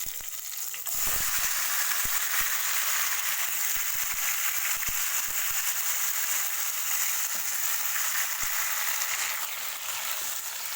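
Tomato pieces sizzle and fry steadily in hot oil for a drumstick pickle, a continuous close crackling hiss with occasional sharper pops, no voices.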